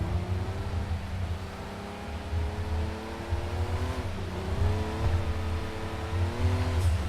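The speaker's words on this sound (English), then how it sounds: "That's a GT3 car up there." A GT3 race car engine in a racing video game drones steadily and loud throughout, with rising and falling harmonic pitch as it revs and shifts, no talking over it.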